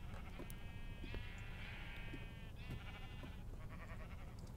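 Sheep bleating inside a Minecraft world, two drawn-out wavering bleats one after another at close range, followed by softer game noise with no talking.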